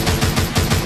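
Rapid gunfire from the mobile zombie shooter The Walking Zombie 2, a dense continuous burst of shots at close range filling the moment with no talk.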